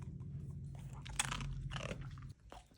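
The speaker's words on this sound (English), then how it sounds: "I love the way that you crunch these." A Siberian husky crunches hard dog treats up close, with several loud, crisp bites and chews in quick succession before the sound drops off to quiet.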